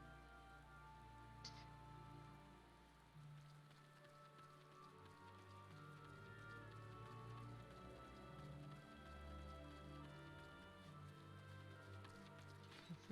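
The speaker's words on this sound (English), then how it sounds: "Rain, it's raining." In Final Fantasy XIV, soft rain patters steadily on surfaces for several seconds, a faint continuous wash under low ambient game sounds and occasional light footfalls.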